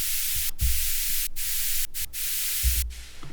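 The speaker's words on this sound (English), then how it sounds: "White noise was kind of killing me." Dense hissing white noise fills the clip, broken by several abrupt brief dropouts and faint low thumps underneath.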